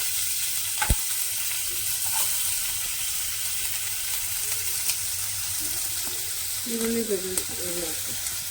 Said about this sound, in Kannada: ಇವಾಗ ಈರುಳ್ಳಿ ಹಾಕ್ತಾ ಇದ್ದಾರೆ